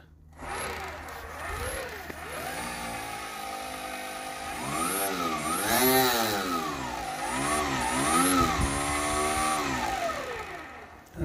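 Electric motor of a converted NSU Quickly moped running, a steady whine whose pitch rises and falls in repeated swells as it speeds up and slows down, close and fairly loud with no talk.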